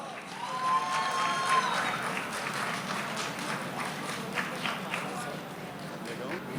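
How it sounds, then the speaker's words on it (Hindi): Sustained applause from an audience welcoming the CEO on stage at an MGC Realtors gala celebration, a dense steady clatter of clapping holding at even loudness throughout with a faint voice underneath. "आपकी भरपूर तालियों में please welcome the CEO Chaudhary Noman Iftikhar."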